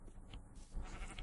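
A sheep bleats in the Minecraft video game, a few short nasal calls over a low game-ambience rumble, fairly close and moderately loud, with no talking.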